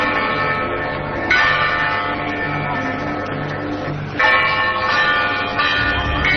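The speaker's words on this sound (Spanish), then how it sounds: "Estas son las campanas, así suenan campanas, de un lugar llamado Fátima" Church bells ring out continuously at the Fátima shrine in Portugal, loud and close with rich sustained overtones, fresh strikes landing every few seconds over a steady ringing wash, no voices.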